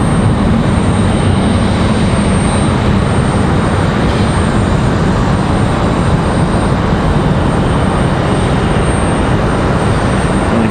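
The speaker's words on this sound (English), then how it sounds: "Spirit Airlines off to Detroit" Spirit Airlines airliner taking off from Raleigh-Durham for Detroit: a dense, unbroken engine roar, loud and steady from start to finish, with no talk.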